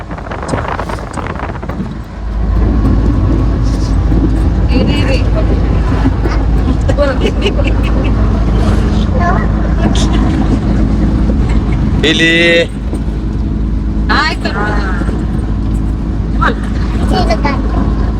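A car travels along the road on a family trip to a temple in Telangana, its engine and road noise a loud, steady low rumble with wind buffeting, while people talk and chatter inside over it.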